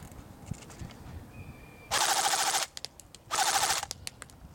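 A CYMA CM.050 AK47 airsoft gun firing full auto outdoors in two loud, close bursts, each under a second long, separated by a short pause, with faint background noise between.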